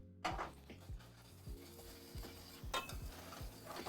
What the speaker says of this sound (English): hear a sizzle when we toast with oil and the rice.